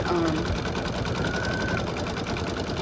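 An embroidery machine in a 4x4 hoop stitches a small circle on a deer Christmas ornament, giving a continuous even buzzing whir with rapid needle ticking, close and steady, with a voice talking over it.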